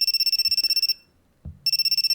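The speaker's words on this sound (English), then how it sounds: "Caller ID showed Tsubaki's name." Phone ringtone of an incoming call, a rapid pulsing electronic trill in short bursts, cut off for half a second by a soft thud before resuming, close and clear.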